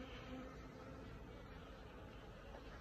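Honey bees humming around hives at an apiary, a continuous low buzz heard close by under a faint, steady outdoor background with no speech.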